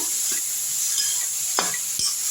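Beetroot stir-fried with salt in a pan, sizzling steadily while a spatula scrapes and clicks against the metal in a few sharp strokes, close and fairly quiet.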